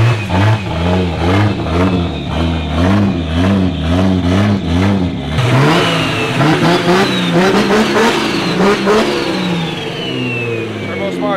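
A turbocharged BMW E36 with a swapped Toyota JZ engine revs repeatedly, rising and falling in pitch, then climbs into a louder, harsher run with turbo whistle; close and loud, with occasional voices underneath.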